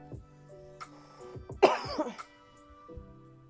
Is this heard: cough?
yes